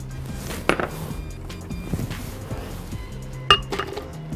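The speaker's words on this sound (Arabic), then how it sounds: "هننزل التلج بتاعنا الاول كده اهو، هنزل عليه نعناع" Ice cubes drop into a glass for a lemon mint smoothie, giving two sharp clinking clusters of cubes striking glass and each other, close and fairly quiet.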